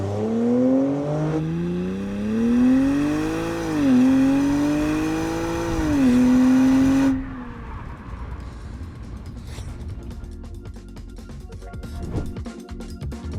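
A 2021 Audi S7 accelerates hard from a standstill on a track during a 0 to 100 test, its engine note climbing through the gears with brief dips at each shift, then cutting off into a road-noise rush, close and loud with no talk.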